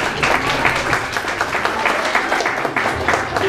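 Sustained audience applause with dense, steady clapping from a large crowd, continuous and fairly loud throughout.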